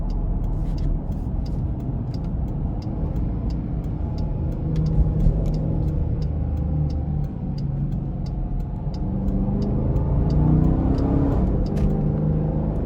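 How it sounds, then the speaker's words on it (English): A 2021 Dodge Durango RT Blacktop's engine accelerates in manual mode, a steady close rumble whose pitch climbs and then drops at a quick gear change near the end, continuing without talk. "I'm gonna put it in the manual mode and see how it shifts."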